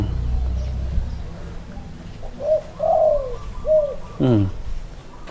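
A few soft, short coos from a molting dove with a weak voice, somewhat faint against a low rumbling background, followed by a brief louder fluttering call.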